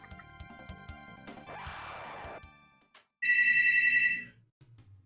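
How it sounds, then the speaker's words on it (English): A telephone rings in a stretch of retro video game audio, a steady electronic trill lasting about a second after game music and a crashing effect cut out. "Phone call. Yeah, phone call."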